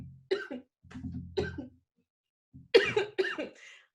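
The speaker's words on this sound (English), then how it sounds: "This cough is trying to make an appearance." A person coughs several times in short bursts close to the microphone, with throat clearing between, in a quiet room.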